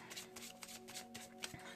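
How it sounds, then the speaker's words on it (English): Tarot cards are riffled and shuffled by hand in quick, papery bursts, close up and steady, with no talking. "Let me just give it a better shuffle though"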